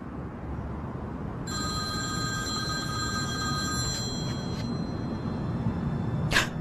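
A telephone rings with a steady electronic tone, starting shortly after the opening and carrying on through the clip over a constant low background hum, close and clear, with one louder burst near the end.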